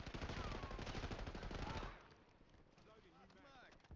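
Rapid video game gunfire, loud and dense automatic bursts for about two seconds, then cutting off into quieter background game sounds with voices talking faintly.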